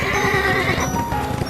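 In an animated Ali Baba cartoon, the forty thieves' horses neigh and whinny loudly up close, with some hoof clatter and movement as they ride away, and no talking.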